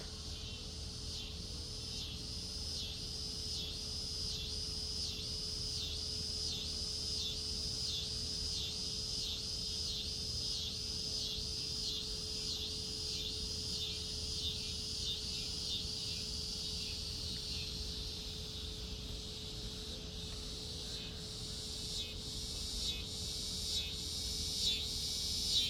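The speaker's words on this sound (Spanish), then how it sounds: "se oye el canto de los grillos." Crickets chirp at nightfall on a nature walk, a steady pulsing trill running throughout with a faint constant hum beneath it and no speech.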